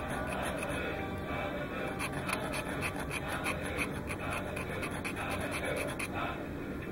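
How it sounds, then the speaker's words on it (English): A file rasping back and forth over a cast resin part to roughen its surface, a steady scratchy rhythm of repeated strokes heard close up and fairly loud throughout. "I like to scrape up the surface with a really good"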